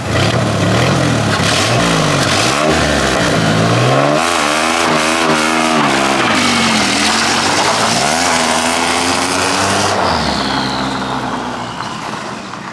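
Turbocharged Ford F150 pickup engine pulling hard in second gear, loud and close, with rising revving sweeps and a clutch kick mid-pull before the revs climb again, then easing off near the end.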